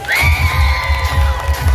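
Crowd at a steel pan competition cheers and whoops for a band, a loud sustained roar with shrill voices rising above it, continuous throughout.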